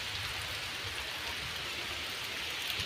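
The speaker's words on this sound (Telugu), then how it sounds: "ఫుల్ వర్షం, అసలు బయటికి రావడానికి అయితే లేదు ఈరోజు." Heavy rain falls steadily over a village, a dense, even hiss of drops on surfaces with no pauses and no voices.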